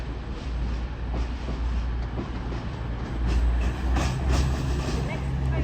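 An East Midlands Railway train, a Class 222 unit on a terminating service from St Pancras International, pulls into Sheffield station with a steady low engine rumble and rolling noise that swells toward the end, under faint platform chatter.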